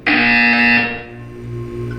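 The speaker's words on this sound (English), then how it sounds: "You will hear a buzzer." A loud, harsh electronic buzzer sounds in a Portal 2 test chamber, one sustained blare that cuts off after about a second and leaves a low hum.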